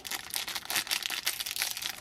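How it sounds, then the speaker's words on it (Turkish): Plastic blind bag packet of a Hairdorables doll being torn open, crisp crinkling and tearing bursts in quick irregular succession, close and fairly loud with no talk. "Hemen Hey Dorables bebeğimizin ikinci poşetini açalım"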